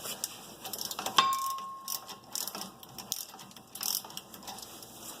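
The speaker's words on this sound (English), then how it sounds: "from here I can just use a 15 millimeter and a regular socket to get them the rest of the way" Ratchet with a 15 mm socket working loose the brake bolts on a 1988–98 Chevrolet K2500 truck, giving irregular mechanical clicks and a sharp metallic ping at close range over low shop noise.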